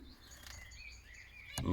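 Zebra finches in an aviary, several short, high chirps and tweets at moderate distance over faint background noise, with a louder bump at the end.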